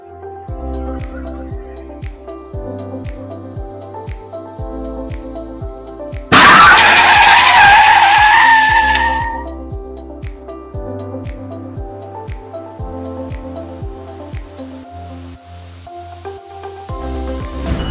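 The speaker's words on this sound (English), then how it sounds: "just as it entered the road, a speeding vehicle from behind slammed into it without warning" On a highway, a speeding car slams into a merging vehicle: a sudden, loud crunching impact bursts out and then fades over a few seconds, with steady background music playing throughout.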